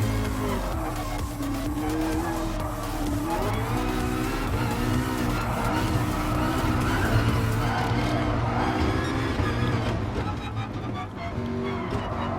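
A race car in Gran Turismo Sport with its engine revving and changing pitch through corners, tyres squealing and skidding, loud and continuous under occasional talk.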